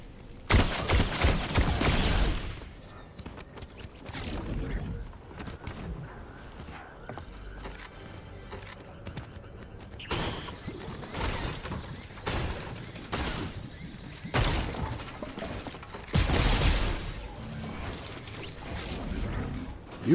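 Fortnite video game gunfire rings out in sharp bursts and volleys at moderate loudness, with rattling mechanical noises between shots.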